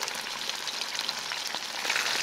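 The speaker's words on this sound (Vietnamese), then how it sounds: "Tiếp tục mình cho cá vào chiên sơ." Fish sizzling and crackling briefly in hot oil in a non-stick pan, a steady dense spattering hiss with no talk, rising slightly near the end.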